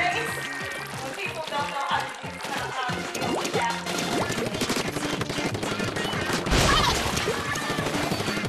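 Rapid ink-weapon fire in the Splatoon video game during a Splatfest match, dense bursts of shooting and splattering effects layered with game music and clatter, loud and continuous throughout.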